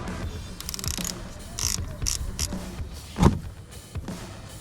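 A ratchet wrench with a 5/8 socket loosens the drain plugs on a Harley-Davidson Street Glide with a Milwaukee M8 engine, giving bursts of close clicking and metallic rattling with a sharper clank near the end.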